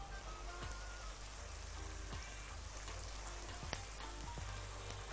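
Onions fry in a pan over high heat, giving a steady, dense sizzle with faint crackles throughout, fairly quiet and close, with no talk.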